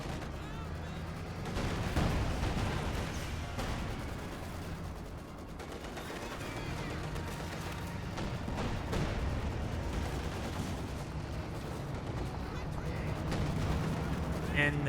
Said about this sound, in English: the Pack 40 is still hitting the assault grenadiers